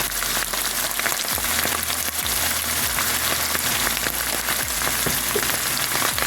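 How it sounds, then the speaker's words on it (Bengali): Masala of mustard paste, turmeric, coriander, chili, cumin and garam masala sautés in a pan for quail bhuna, a continuous dense sizzle with scattered crackles and faint stirring knocks close by. "এই মশলাটা একটু কষিয়ে নিই"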